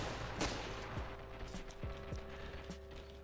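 Sharp, distant-sounding gunshots in the video game Ravenfield crack in a quick irregular series over a steady electronic hum, with mechanical clicks between them.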